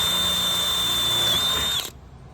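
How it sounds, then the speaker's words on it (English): A power drill whines steadily at high speed for nearly two seconds, then stops abruptly, leaving quiet room tone. "you want to drill a hole"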